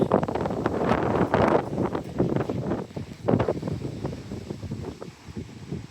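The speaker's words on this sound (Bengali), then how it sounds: "সাংঘাতিক বাতাস উড়িয়ে নিয়ে যাচ্ছে।" Strong gusty wind buffets the microphone in a park in New York, loud rumbling blasts that rise and fall in waves with brief lulls.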